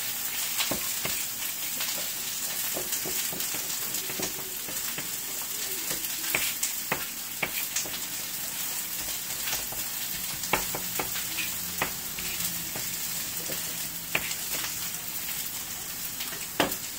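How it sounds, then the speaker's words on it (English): Onions, celery and garlic sauté in a pan for grain-free stuffing, giving a steady close sizzle and crackle with scattered sharp pops and light stirring scrapes, no voices. "in this other pan, I am sauteing"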